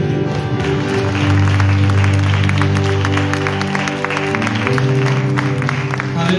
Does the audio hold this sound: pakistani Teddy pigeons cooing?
no